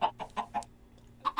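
Chickens in Minecraft cluck in a short run of clear, moderately loud clucks. After a brief pause, two more clucks follow, with no voices present.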